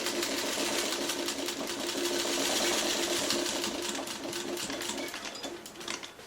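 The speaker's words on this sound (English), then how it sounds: "I'm going to very carefully sew a 1/8 seam just to keep it so it doesn't stretch" A sewing machine runs steadily for several seconds, stitching a narrow one-eighth-inch seam on bias-cut fabric for foundation paper piecing, with a rapid, even mechanical rattle that slows slightly near the end.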